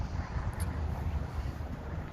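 Wind gusts steadily outdoors behind a bush wall, a broad low rumble buffeting the microphone for the whole stretch, loud and continuous with no voices.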